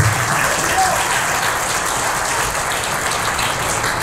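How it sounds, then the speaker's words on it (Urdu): A church congregation claps during a sermon, producing a broad, even wash of applause that holds steady throughout with no clear voices over it. "اپنے لیے زوردار تالی ہو جائیں گے۔"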